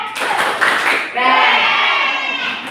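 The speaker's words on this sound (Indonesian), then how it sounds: "Kalau kita tepuk keren ya sama kelompok satu, tepuk keren." A classroom of children performs a short rhythmic group clap and chant together, loud and close, with voices and hands blending in a quick patterned burst.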